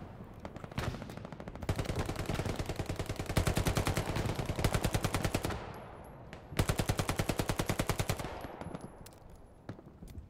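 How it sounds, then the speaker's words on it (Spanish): Rapid bursts of machine-gun and rifle fire in the World War II shooter Hell Let Loose, long rattling volleys with short gaps, moderately distant and steady, no talk over them. "estoy escuchando tiros"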